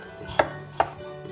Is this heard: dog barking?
no